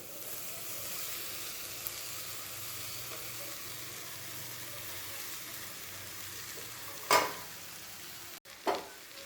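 Wheat bran being sautéed in a pan for a bran vegetable dish gives a faint, even background hiss, broken near the end by two short, louder scraping bursts from stirring.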